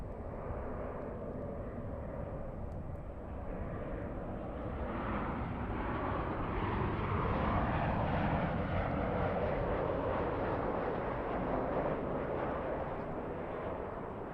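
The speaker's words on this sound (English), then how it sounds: "Peter, just in time for the 747 takeoff." A Lufthansa Boeing 747 roars down the runway on takeoff at LAX, a broad distant rumble that swells and grows louder midway, then holds steady with no voices.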